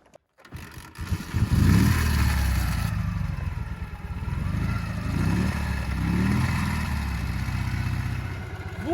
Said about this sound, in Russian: Мотоцикл работает.